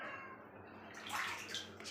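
Warm water infused with neem leaves splashes and pours over a cat during a bath, quiet at first and then growing into louder, irregular gushes and trickles near the end.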